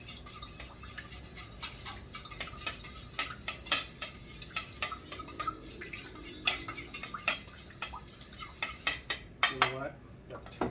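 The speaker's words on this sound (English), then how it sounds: "Mix this all together." Ingredients being mixed together in a pan while cooking steamed fish with soy sauce and ginger, with repeated scraping and clinking of a utensil against the pan over a soft sizzle, busier and sharper toward the end.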